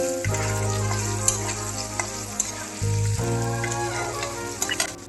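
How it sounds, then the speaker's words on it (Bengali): Paneer fries in hot oil for a chola paneer dish, a continuous close sizzle with light stirring noises under steady background music. "এখন আমি পনিরটাকে লাল লাল করে ভেজে দেব।"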